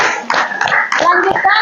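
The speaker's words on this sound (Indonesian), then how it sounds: "Oke, kita tepuk tangan dulu sebelum kita" A classroom of children clapping their hands together in short bursts of close, loud applause, with a teacher's voice speaking over the clapping.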